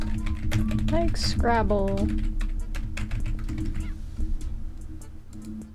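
Keyboard typing clatters as a rapid run of sharp clicks throughout, beneath a voice speaking in a game, with steady background hum.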